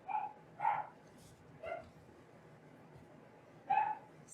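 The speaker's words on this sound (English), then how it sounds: "He's barking down the hallway." A dog barks down a hallway indoors, four separate yips spaced out over a few seconds, muffled and somewhat distant against a quiet background.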